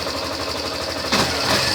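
Idle of a 2016 Yamaha Fazer 150 on its original factory exhaust, a steady close putter with a brief rev blip near the end.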